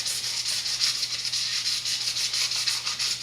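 An abrasive is scuffed along a fly rod blank to rough up its surface, giving close, steady rubbing strokes in an even back-and-forth rhythm, with no voices.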